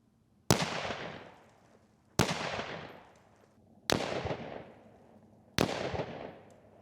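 An unsuppressed rifle chambered in 6mm ARC fires four loud, sharp shots about two seconds apart, each followed by a long, fading echo outdoors.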